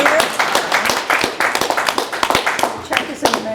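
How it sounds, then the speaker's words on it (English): A small group claps steadily for a few seconds, the quick overlapping claps close by, with some voices mixed in. "A little applause here."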